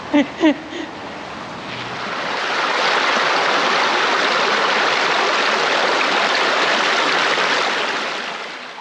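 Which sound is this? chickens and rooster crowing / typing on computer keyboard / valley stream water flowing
valley stream water flowing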